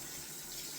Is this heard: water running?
yes